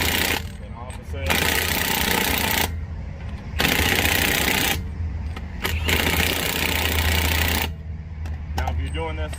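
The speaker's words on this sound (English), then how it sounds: "I'm going to use my impact because it's faster" A pneumatic impact wrench hammers lug nuts on a Toyota RAV4 wheel in loud, sustained rattling bursts of several seconds each, with short gaps between them, up close during a flat tire change.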